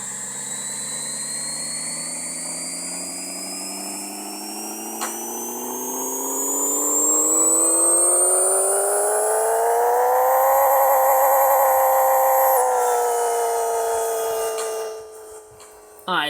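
A Nissan GT-R R34 engine in Pixel Car Racer revs on a dyno with a long, smooth climb in pitch that holds at a loud peak, then cuts off sharply near the end, loud and without interruption.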